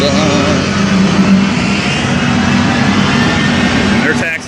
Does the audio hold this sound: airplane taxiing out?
yes